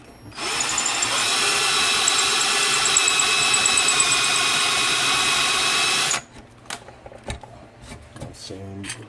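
A drill bores a hole for a bushing in an ES-335 style guitar body, a steady loud whine lasting about six seconds, then cutting off to quiet workshop clatter and a few knocks.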